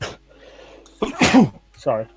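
A single sharp sneeze bursts out loud and close, with a short apology spoken just before and after it.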